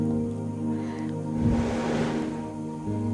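Water squeezed through a hole punched in a plastic bottle cap, streaming from soaked chickpeas into a glass, a steady hissing trickle that swells in the middle and then eases, heard alone against a constant hum.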